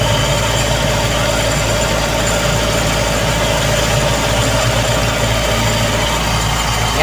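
A Toyota 2E engine idles on a cold start at a raised 1,600 RPM, held up by the dashpot throttle positioner, giving a steady, loud, continuous hum with constant vibration throughout.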